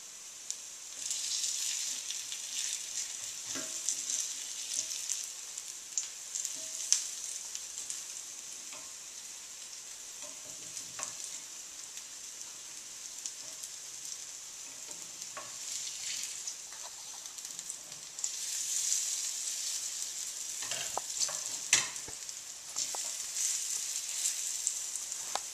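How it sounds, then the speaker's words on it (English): Sprouted aduki bean and ginger burgers fry in a pan with a steady, bright sizzle and crackle throughout, close and continuous, broken by occasional soft scrapes and taps. "the burgers are finished frying"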